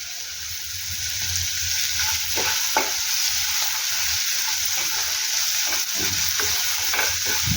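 Peas frying in a pan with salt for a methi matar masala, a constant sizzle with repeated stirring scrapes throughout, close and fairly loud.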